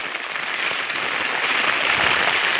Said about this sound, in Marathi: एकदम सर्व दूर असा पाऊस आहे मित्रांनो